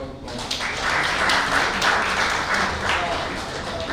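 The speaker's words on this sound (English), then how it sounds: "I request all of you to welcome ANOOP back to the round of applause" A crowd at a Union Budget 2023 panel discussion at Garware Club House applauds to welcome a speaker, a sustained even round of clapping with some voices mixed in.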